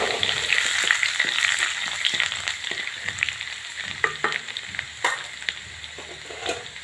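Garlic and ginger hit hot ghee after cumin seeds have popped, giving a loud, steady sizzle and crackle with occasional stirring clatter, close up and without talk.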